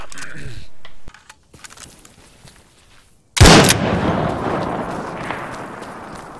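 In the Arma 3 ballistics demonstration, a weapon fires one sharp, loud report after a stretch of quieter game sounds, followed by a long rumbling tail of noise, with talk partly overlapping.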